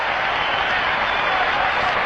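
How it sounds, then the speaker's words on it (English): A football stadium crowd at a Chicago Bears versus Atlanta Falcons game roars in a steady, dense wash of cheering and applause. The noise stays loud and continuous throughout. "listen to the crowd respond to sweetness."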